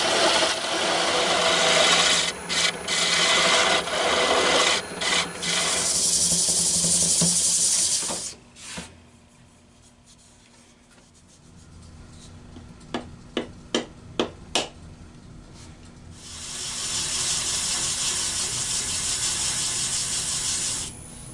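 Wood being turned on a lathe to shape the feet of a three-legged bowl, with loud sustained cutting hiss broken by short gaps, a quieter stretch of scattered clicks and taps, then steady cutting again.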